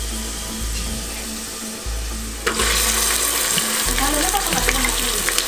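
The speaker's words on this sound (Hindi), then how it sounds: "अब डाल रहे हैं अपन मटन।" Pieces of mutton go into a hot cooking pot for soup, and a loud, bright sizzling hiss bursts out partway through and carries on steadily over the low rumble of the stove.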